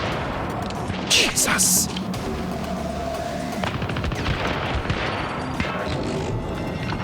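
Gunfire in the Syndicate video game on its hardest difficulty, with a sharp, loud burst of shots early on and a steady crackle of firefight noise throughout, while someone talks over it.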